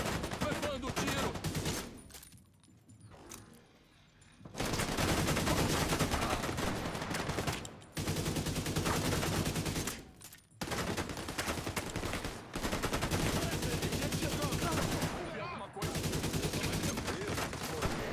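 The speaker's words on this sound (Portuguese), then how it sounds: "Levando o tiro!" Rapid bursts of gunfire in the video game The Division 2 rattle in long volleys, broken by brief pauses, with faint voices underneath.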